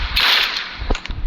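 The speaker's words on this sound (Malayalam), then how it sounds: "നമുക്ക് ഗണ്ണെടുത്തിട്ട് വെടിവെച്ച് നശിപ്പിക്കാൻ പറ്റുമോ നോക്കാം." Gunshots in the Roblox video game come as a few sharp, loud cracks in quick succession, each a short whip-like snap with brief gaps between.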